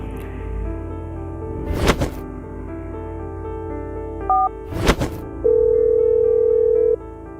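A telephone line gives a steady dial tone after a couple of dull thumps and brief beeps, then the tone holds for over a second before cutting off.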